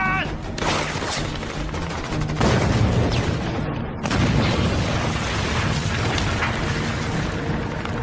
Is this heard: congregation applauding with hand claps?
no